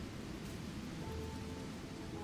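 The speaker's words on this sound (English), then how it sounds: "It's raining" Steady rain hisses in the video game Project Gorgon, a soft, even wash of falling water that holds without a break, with a low rumble underneath.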